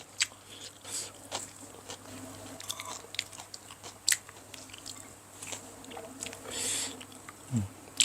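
Burmese tea leaf salad with beans chewed close to the ear, irregular soft crunches and wet squishy bites scattered through a quiet room, with a few louder crisp snaps, no voices.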